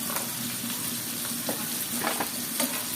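Greens sizzle steadily as they fry with salt in a pan, with a few sharp scraping stirs cutting through the even, close hiss and no voices.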